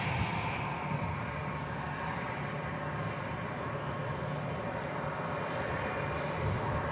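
Fixed-wing aircraft on final approach about to touch down at Manchester Airport, a steady low engine rumble with a soft high whine, distant and fairly faint, heard alone.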